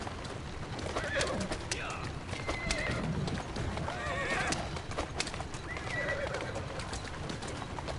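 A horse in Assassin's Creed Syndicate whinnies a few times amid clopping hooves and cooing birds, moderately loud against a busy outdoor background.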